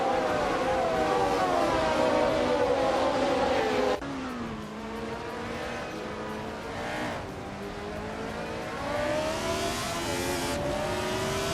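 1971 Formula One race cars, including Lotus 72Ds and Tyrrells, race at Alton Park in a video game, their engines whining loudly with revs rising and falling as gears shift and cars pass close by.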